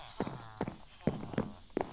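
Horse hooves clip-clopping in the video game Minecraft, five or six separate hoof steps at an uneven walking pace, fairly quiet and close, with no talking over them.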